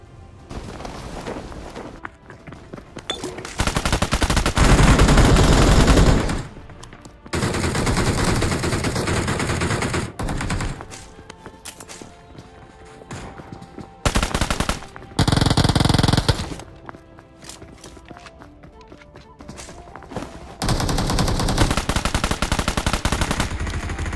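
Bursts of automatic gunfire from a solo battle royale video game match, coming in loud, sustained volleys separated by short quieter gaps, with more shooting continuing to the end.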